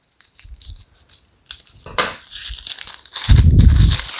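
Parchment paper being trimmed and crinkled while lining a baking pan: light crackling and snipping rustles, building to a louder, dense crumpling burst near the end, close and with no talk.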